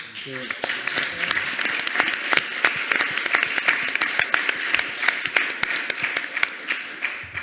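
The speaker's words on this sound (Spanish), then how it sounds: "voy a primero pedir un aplauso para la mesa, por favor" Applause for a panel at the close of a Spanish publishing conference, a room of listeners clapping with distinct individual claps audible throughout, fairly close and sustained.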